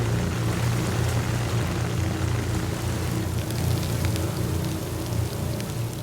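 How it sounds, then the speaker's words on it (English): Artificial rain from a rain machine pours steadily onto a piece of heavy artillery, a dense, continuous hiss of falling water with a low rumbling undertone, loud and unbroken throughout. "For over an hour, the artificial rain drenched the piece of heavy artillery."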